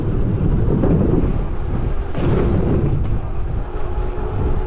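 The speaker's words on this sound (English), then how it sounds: "It's pretty windy up there." Strong wind buffets the microphone in a continuous low roar, gusting unevenly and loud throughout, with no voices.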